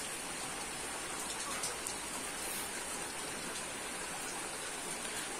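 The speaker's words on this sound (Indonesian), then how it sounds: "di tempat saya itu pagi hari hujan ya" Morning rain falls steadily as a soft, even hiss of drops, faint and unbroken throughout with no voices.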